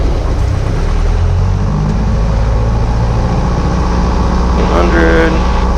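Small single-engine aircraft running up to 1800 rpm for a magneto check, a steady engine drone with rising pitch heard in the cockpit while a pilot talks over it.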